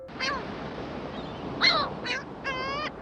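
Bird call sound effect standing in for a seagull in the Baywatch pilot, sounding more like harsh crow caws: four short raspy calls spaced across a few seconds, fairly close against a quiet background.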